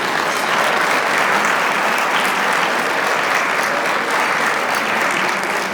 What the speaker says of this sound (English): Can we give a nice round of applause to our workers tonight?